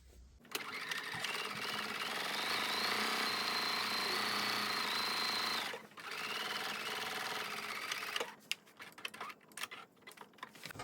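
A sewing machine stitching a seam on a pair of pants, running in a loud continuous whirring burst, pausing briefly, then running again before ending in a few short stop-start clicks and knocks.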